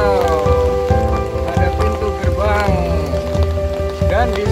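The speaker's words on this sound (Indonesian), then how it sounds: "sayang ini waktunya sedang hujan" Rain falling at the Jolotundo ancient site in Trawas, a loud steady patter of drops on surfaces, close and continuous, with voices talking over it.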